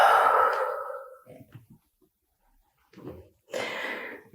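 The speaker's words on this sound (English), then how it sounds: "Deep breaths." Deep, slow breathing during a yoga session, with a long, airy exhale, a pause of near silence, then another breath drawn in close to the microphone.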